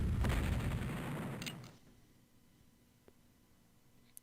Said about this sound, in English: These guns can fire down on the 84th Pennsylvania, which loves to just sit here and take our artillery fire.